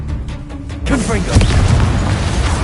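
After a quieter moment, a Confringo explosive spell in Hogwarts Legacy bursts in with a sudden boom, then loud rumbling blast noise that carries on. A voice is heard in the mix.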